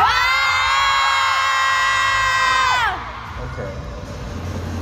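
Fans at a concert in Seoul let out a loud, high-pitched sustained scream for about three seconds before it drops away into a lower crowd murmur.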